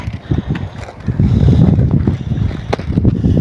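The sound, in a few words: wind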